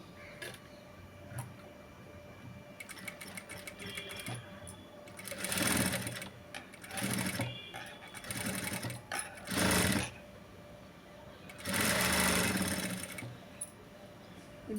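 A sewing machine stitches piping onto a blouse in several short bursts, whirring loud and close between pauses with small mechanical ticks and handling sounds.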